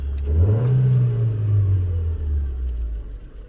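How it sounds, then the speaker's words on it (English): A car engine revs up once with a rising roar, then holds and slowly settles back down, heard close and without voices. "that was me revving it"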